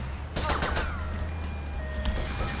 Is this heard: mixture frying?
no